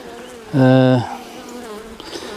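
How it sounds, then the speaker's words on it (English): Honey bees buzz during a beehive inspection, a loud close swell of droning wing hum lasting about half a second, then fading back to a faint background hive hum. "I see a lot of bees there with pollen baskets."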